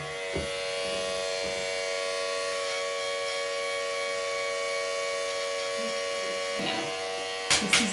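Electric hair clippers cut shaved sides of an edgy haircut, a close, steady high buzz humming without pause, with brief soft taps near the start and a few clicks at the end.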